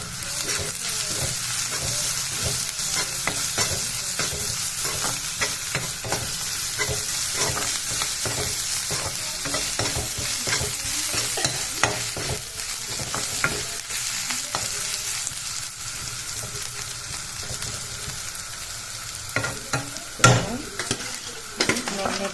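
Crushed ginger and garlic fry with browned onions in a pan, giving a steady, moderately loud sizzle with frequent stirring scrapes throughout and no talking.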